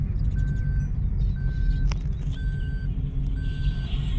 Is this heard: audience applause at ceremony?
no